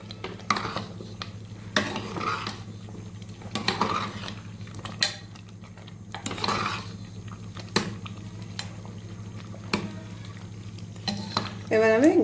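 A spoon stirs chicken khichdi in a pot after coriander leaves go in, with repeated scraping and metallic clinks against the pan at an irregular pace, heard up close under a low steady hum.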